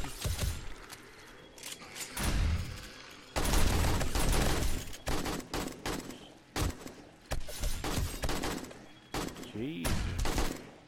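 Gunfire in the video game 7 Days to Die during a zombie horde night: rapid bursts of sharp shots come in clusters, mixed with a few brief gaps and a voice talking between volleys.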